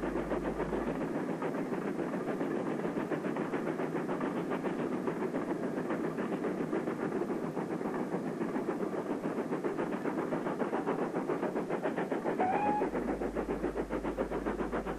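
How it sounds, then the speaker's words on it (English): Pannier tank steam locomotive pulling an afternoon train away on the Cambrian Coast line, heard as a steady rolling rumble with rapid rhythmic chuffing and clatter at moderate distance, with a brief faint whistle near the end. "The pannier departs on the afternoon train"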